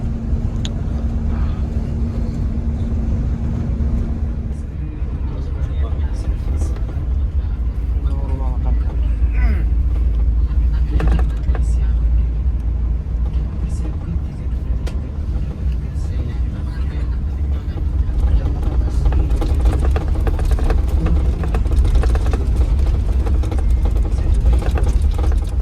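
Steady low engine rumble and road noise inside the cabin of a Scania K410 double-decker bus while riding, continuous and fairly loud with occasional rattles and a person talking over it.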